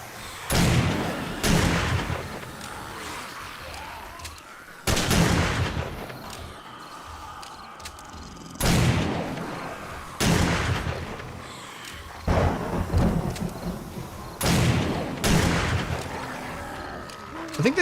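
Gunfire in the zombie survival game 7 Days to Die during a horde night, heavy booming shots spaced a second or more apart, loud and close, with a voice talking over them between shots.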